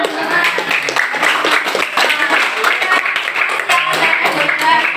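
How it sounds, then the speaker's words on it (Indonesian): Students in a classroom clap together in a steady, dense patter that lasts throughout, with voices mixed into the applause. "Tepuk tangan dong"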